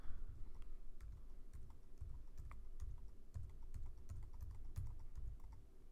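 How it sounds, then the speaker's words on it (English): Steady typing on a computer keyboard while writing Java code, quiet close key clicks in irregular bursts with a soft background hum, no speech. "I kept on typing."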